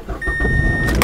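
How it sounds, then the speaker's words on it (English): A 2005 Mazda6 sedan's engine cranks briefly and catches, settling into a steady idle heard from inside the cabin, with a short whirring burst near the end. "it cranks right up."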